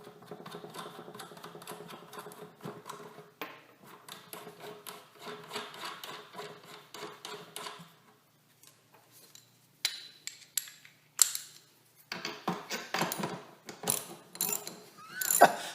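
A deep well socket on a ratchet loosens the bolts of a wheelbarrow wheel. Soft ratcheting and scraping come in uneven bursts, with a brief pause partway and sharper metallic clicks and clatter toward the end.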